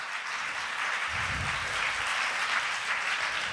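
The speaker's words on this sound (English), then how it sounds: "One more round of applause" Audience applause in a symposium hall after a beatboxer's performance: a steady, dense wash of clapping from a room full of people, moderately loud and continuous throughout with no talking over it.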